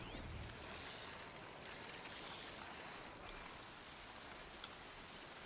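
Steady, dense rainfall in Horizon Zero Dawn hissing continuously throughout, even and unbroken, with no voices over it.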